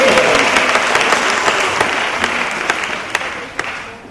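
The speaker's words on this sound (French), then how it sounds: "On peut applaudir aussi." Warm, full applause fills a parliamentary session hall, loud and even throughout with a few sharper individual claps standing out as it slowly tapers.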